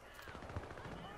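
Rapid SMG fire in the co-op demo of the video game Syndicate, a dense burst of gunshots running through the whole short moment, with speech mixed in.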